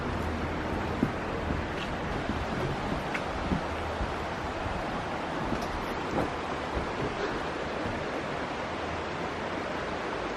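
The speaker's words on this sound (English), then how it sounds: "This is the first of no doubt many New Zealand waterfalls." A New Zealand waterfall roars as a steady, dense broadband rush that fills the whole clip at an even level, with no voices over it.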